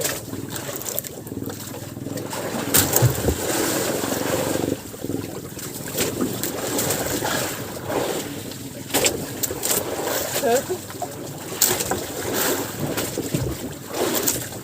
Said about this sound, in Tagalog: Kaya kung may naririnig kayong ingay ng makina, si kuya yan.